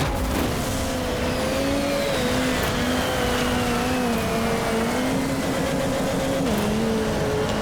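A race vehicle in the MotorStorm video game roars along at full throttle with boost, a loud sustained engine whine with slight pitch shifts and a rushing backdrop, no talking.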